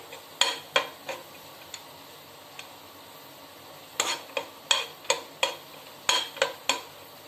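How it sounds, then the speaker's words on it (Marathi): Dry fruits are sautéed in a pan for a festive sweet filling. A spoon scrapes and clinks against the pan in quick bursts of stirring strokes over a faint background hiss, close and fairly crisp. "त्यात थोडे ड्रायफ्रूट परतून घेऊया"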